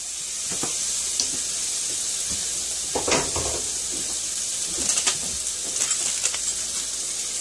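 Gluten-free turkey sausage sizzles in a pan with a continuous bright hiss, punctuated by crackles and pops and a few scrapes as it cooks.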